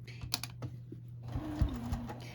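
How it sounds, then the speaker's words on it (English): A sewing machine stitches quilt binding in quick, faint rattling bursts, pausing briefly between runs, close and quiet with no talking. "So I'm going to put that under there, just start sewing."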